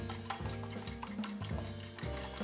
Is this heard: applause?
no